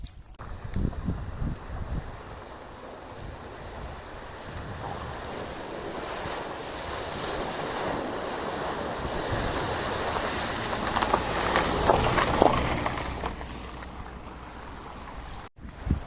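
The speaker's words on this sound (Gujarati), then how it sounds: "આ ગાડી આવે એટલે તમે જોજો કેટલું પાણી ઉડે છે" A car rushes through deep water on a flooded road, a rising surge and splash peaking near the middle, over a steady watery roar and some wind buffeting.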